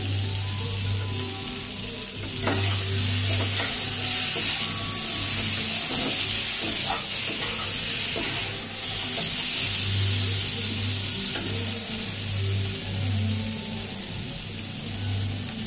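Food fries in a pan with a steady bright hiss, broken by occasional scraping stirs and low hum in the background, with no talking.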